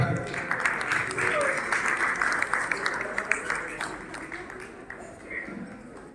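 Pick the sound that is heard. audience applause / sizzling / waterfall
audience applause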